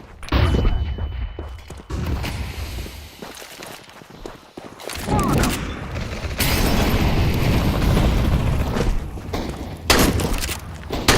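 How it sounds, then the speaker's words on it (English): Counter-Strike 2 combat with a flashbang grenade going off among loud, dense gunfire and booming impacts, sustained and busy through most of the stretch with brief lulls. "Smoke! I throw the flashbang."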